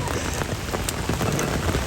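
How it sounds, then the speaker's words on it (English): Steady heavy rain falls during a sudden outdoor summer storm at a street vigil, a dense continuous hiss of drops spattering on surfaces with no break. "So it is now raining."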